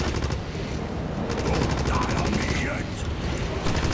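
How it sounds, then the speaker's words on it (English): Rapid gunfire in Wolfenstein, shots aimed at an enemy in sustained bursts of automatic fire that rattle steadily through the whole clip, loud and close over a busy game background. "Dude, I've shot you like 100 times already."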